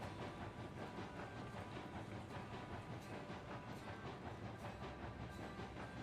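Two steam locomotives push a heavy, overloaded train up a grade in Railroads Online, giving a steady, dense rolling rumble of rail noise with faint chuffing throughout, close and continuous with no talk.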